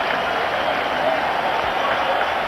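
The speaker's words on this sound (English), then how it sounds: "Rapturous applause, and it has been a delightful innings" A cricket crowd at the 1996 World Cup applauds Tendulkar's half-century, a dense continuous wash of distant clapping and cheering that fills the stadium, with a commentator's voice over it.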